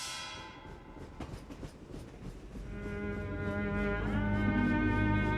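A train passes close by, its wheels clattering on the rails as a long, loud horn blast builds and holds at the end.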